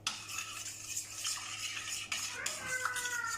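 Spoon stirring a cream face mask mixture made with starch in a bowl, giving steady soft scraping and swishing strokes with light clinks, close and alone.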